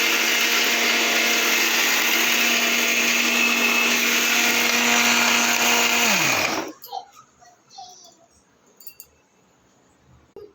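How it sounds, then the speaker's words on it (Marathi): A kitchen mixer grinder whirs loudly and steadily while grinding onion masala for a chicken curry, running for about six seconds before winding down and stopping, leaving a few faint clinks afterward. "मसाला फिरवून घेऊ मिक्सरमध्ये."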